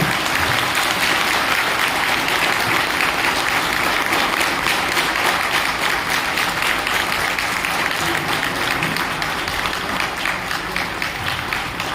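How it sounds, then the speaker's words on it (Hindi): An audience at an AWPL business-plan event gives loud, sustained applause in thanks, dense clapping filling the hall for about twelve seconds without a break. "एक बार अपने अपनी जगह पर जोरदार तालियों से एक धन्यवाद के रूप में उन्हें जरूर दे सकते हैं"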